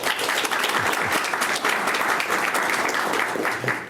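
Sustained applause from a seated audience honoring Military Child of the Year semifinalists at a ceremony, a dense, even clapping wash that holds steady at close range for the whole stretch.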